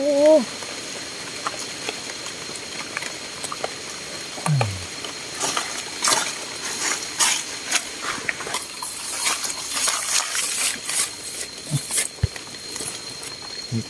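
Steady rain pattering on a surface in a forest, with scattered drips and small clicks throughout, plus a brief voice near the start.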